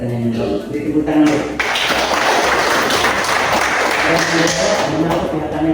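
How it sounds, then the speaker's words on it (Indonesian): Sustained audience applause after a question-and-answer exchange in a university lecture setting in Kupang, steady broadband clapping lasting several seconds with a few voices beneath it. "Beri tepuk tangan."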